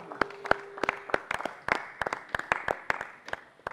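A church congregation claps together to acclaim the Lord, a short burst of crisp, rhythmic hand claps, fairly close and steady, with a brief sustained tone faintly underneath.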